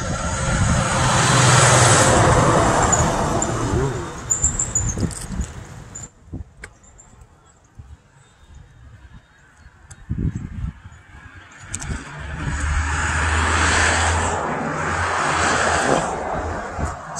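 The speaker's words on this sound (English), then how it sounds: "In traffic." Passing road traffic roars in and out along a street during a walk, loud at the start, fading to a quiet stretch, then swelling again as more vehicles go by.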